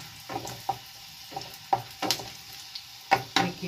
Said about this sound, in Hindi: लहसुन की कली हमने काट के रखा है, उसको छौंक देते हैं, हल्का सा ब्राउन हो जाए।